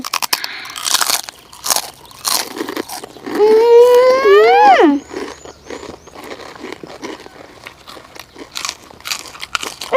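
Crunchy pork rinds with Thai chili dip are bitten and chewed up close in loud, sharp crunches, with a voice talking and exclaiming in between bites.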